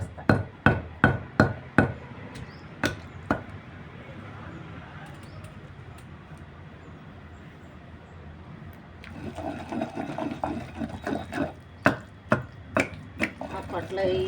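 A pestle pounds green chili and tomato chutney in a stone mortar, giving sharp, loud thuds in regular runs. The pounding pauses midway while background noise continues, then resumes.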